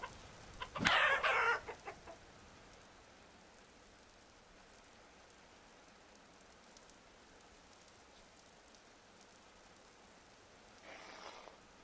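A chicken in the video game Vintage Story lets out a brief loud burst of clucking near the start, then softer clucks fade under a steady patter of game rain, and a faint cluck flares again at the end.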